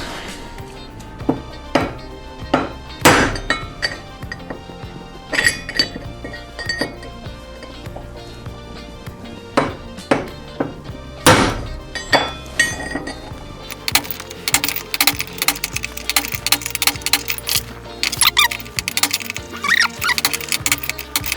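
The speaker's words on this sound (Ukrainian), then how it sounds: "Я буду вперше міняти підшипники, вибивати обойми" A hammer knocks the bearing races out of a Ford Sierra wheel hub in a garage, sharp metallic strikes at irregular intervals, some loud and isolated, then a faster cluster of clinking blows, with no talk.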